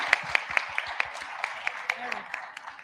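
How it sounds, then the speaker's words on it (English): A small conference audience at the Africa Bitcoin Conference claps in sparse, distinct hand claps, a few people applauding at a moderate pace with a faint voice underneath. "Another round of applause."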